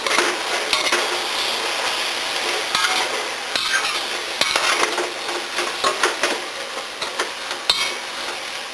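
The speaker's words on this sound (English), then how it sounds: "Stir that up." Callaloo with peppers and liquid aminos is stirred in a pan, giving a steady sizzle broken by scraping and clinking as the utensil sweeps through; close and moderately loud, with no talking.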